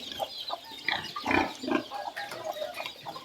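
A few short clucks from a fighting rooster or hen, fairly close, scattered over a quiet farmyard background with other faint animal noises.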